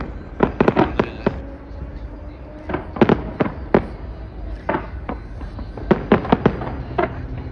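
New Year fireworks burst outdoors in irregular clusters of sharp pops and crackles, moderately distant, against a steady background rumble.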